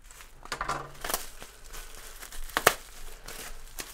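Packaging of a small CrazyBad Designs CrossCut puzzle being cut and opened by hand: close crinkles, a snip and tearing rustles in uneven bursts, fairly quiet, with no speech.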